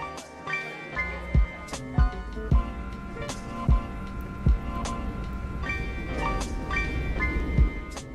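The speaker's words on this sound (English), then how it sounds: "Ito yung ginawa nilang hybrid electric train," Hybrid diesel-electric train running on generator set and batteries, a steady low rumble with repeated rhythmic thumps as wheels pass rail joints, under a continuous engine drone with faint tonal hum.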